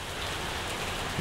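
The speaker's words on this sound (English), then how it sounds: "but since it's raining" Steady rain falls on a backyard lawn under tree cover, a dense even hiss of drops on grass and leaves with no talking.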